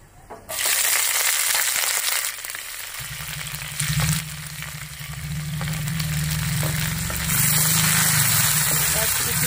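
Chopped onion hits hot oil in a pan for a Bengali prawn curry, bursting into a loud, steady sizzle that keeps hissing with scraping stirs while a voice speaks over it.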